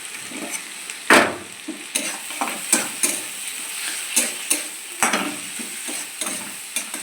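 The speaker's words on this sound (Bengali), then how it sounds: "আবার টমেটোগুলো ওর মধ্যে মশলার সঙ্গে কষে নেব।" Tomatoes fried with spice paste in a pan for a fish-egg curry, a hissing sizzle punctuated by a rhythmic series of spatula scrapes and clinks against the pan, close and lively, with no speech.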